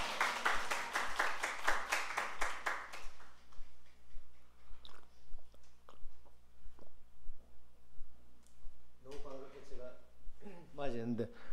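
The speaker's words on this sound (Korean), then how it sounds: "박수 한번 해주시다." Congregation applause in a church, a dense burst of clapping for about three seconds that fades out, followed by a pastor speaking quietly.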